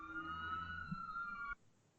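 An ambulance siren passing by outdoors, a steady wailing tone that holds fairly loud and then cuts off abruptly partway through, leaving quiet background.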